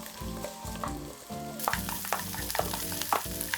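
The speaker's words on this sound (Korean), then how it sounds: "식용유 2숟가락, 양파와 당근을 볶아줍니다." Onion and carrot stir-frying in two spoons of cooking oil, with a steady close sizzle and repeated sharp scrapes and taps of a utensil on the pan, while soft music plays underneath.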